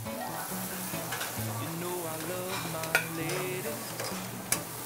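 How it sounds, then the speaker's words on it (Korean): Meat sizzles and fries steadily on a griddle at a busy buffet steak and pasta station, a continuous crackling hiss with occasional clinks of utensils and faint background voices and music. "고기 이제 좀 끓는 게 이제 태가 나는데"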